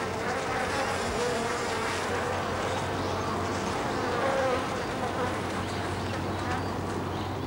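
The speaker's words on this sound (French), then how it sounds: "la guêpe réagit en se posant pour faire cesser la vibration de ses propres ailes" Steady, dense insect buzz of a wasp's vibrating wings close to a Japanese honeybee hive, humming continuously at an even level throughout.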